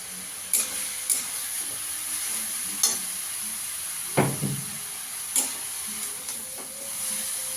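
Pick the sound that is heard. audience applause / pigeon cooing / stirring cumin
stirring cumin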